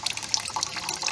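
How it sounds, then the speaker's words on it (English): Muddy rainwater running off bare soil trickles and splashes steadily into a collecting container during an erosion experiment, a close, continuous watery pour with small drips. "We're collecting the water."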